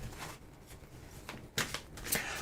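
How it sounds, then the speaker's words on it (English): A deck of playing cards being shuffled, with soft riffling and papery bursts that swell into a louder flutter toward the end, fairly quiet and close, with no talking. "I knew that I was shuffling and the cards were getting loose"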